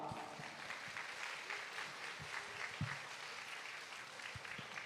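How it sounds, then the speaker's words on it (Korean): Audience applause at a school admissions information session opening in an auditorium, a steady dense patter of clapping held for the whole stretch, with a few sharper individual claps standing out. "큰 박수 부탁드립니다."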